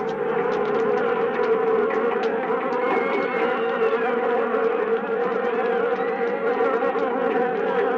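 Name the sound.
swarm of bees buzzing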